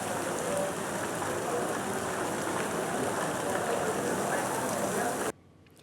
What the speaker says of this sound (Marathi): काल रात्रीपासून संततधार पाऊस बरसतो आणि सकाळीही पावसाची संततधार सुरूच आहे